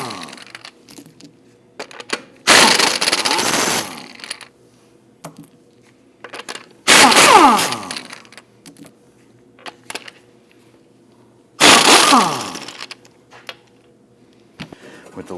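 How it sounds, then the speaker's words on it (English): A 19mm socket loosens and removes lug studs from a Volvo XC60 wheel, giving three loud bursts of metallic rattling and clinking separated by quieter clicks and pauses. "Using a 19mm socket, we want to get it loosened and remove the lug studs."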